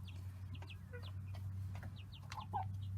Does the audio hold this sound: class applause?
no